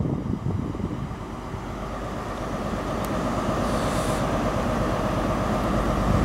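A Great Western Railway train rolls past at Reading station, a loud, steady rumble and rushing roar with wind buffeting the microphone and no talk.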